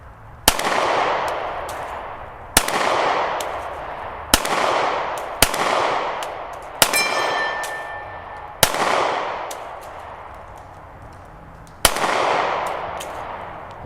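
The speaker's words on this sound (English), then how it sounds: "take a few shots at the steel to see if I can hit it" Seven sharp handgun shots ring out outdoors at a steel target, spaced a second or two apart, each a loud crack with a long fading echo, and no talking between them.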